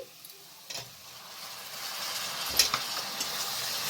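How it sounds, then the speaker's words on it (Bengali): Tomatoes hitting a pan of onions fried until lightly red, giving a soft steady sizzle with a few sharper crackles and spits partway through and the frying hiss slowly building. "এবার আমি টমেটোটা দিয়ে দিচ্ছি"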